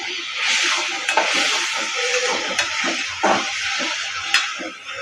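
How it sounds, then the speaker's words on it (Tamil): Tomatoes are sautéed with salt in a pan while a mushroom kurma is cooked. A bright, steady sizzle is punctuated by several spatula stirs and scrapes, close and clear, without speech. "தக்காளி வதங்கிறதுக்காக உப்பு போட்டு நம்ம வதக்கி எடுத்துக்கிறலாம்"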